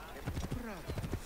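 Horse hooves clip-clop in Assassin's Creed Origins, a few quick, close hoof strikes blending under a talking voice.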